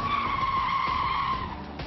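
An Audi RS5 with all-wheel drive and a 450-horsepower engine takes a corner at speed, its tires letting out a long, steady, high squeal under a low engine rumble.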